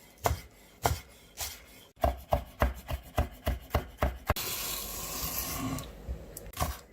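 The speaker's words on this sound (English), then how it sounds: "Cut coriander very fine." Fresh coriander being finely chopped with a knife on a board, a run of sharp, evenly spaced close chops, then a rustling scrape of the leaves and one more chop, no voices.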